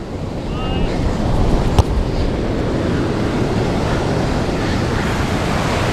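Rough surf on Karon Beach in Phuket during a storm, a steady broadband roar of breaking waves with wind buffeting the microphone, continuous and fairly loud throughout.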